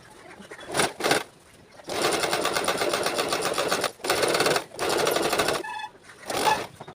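A sewing machine stitches a seam on a men's pajama in rapid, loud mechanical bursts, running in several runs of one to two seconds separated by brief pauses.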